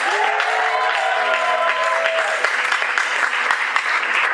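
Audience applause for a kartal player at a kirtan gathering, a steady dense wash of clapping throughout, with lingering sustained musical tones fading beneath it early on.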